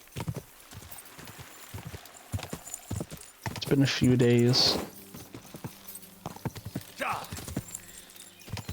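Horse hooves clip-clop steadily on the ground in the video game Kingdom Come Deliverance 2, near and rhythmic, with a brief whinny partway through and someone talking over the hoofbeats.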